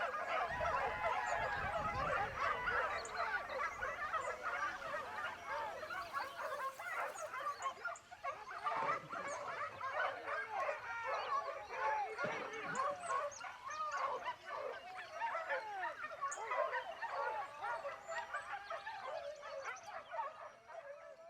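Several hunting dogs bark and yelp excitedly in a continuous overlapping chorus while chasing a wild boar during a montería in La Ropera, heard at middle distance outdoors.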